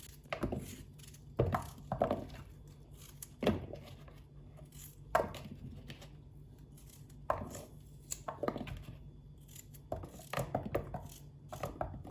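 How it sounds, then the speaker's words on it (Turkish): Quiet, irregular knife chops on a cutting board while dicing potatoes into cubes, single thunks and short bursts with pauses between them. "Şimdi bunu patatesleri küp küp doğrayayım ben"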